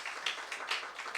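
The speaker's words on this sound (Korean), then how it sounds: "우리 격려의 박수 한번 쳐줄까요?" A church youth congregation applauds students: a short, quiet spell of scattered hand clapping with a loose, uneven rhythm.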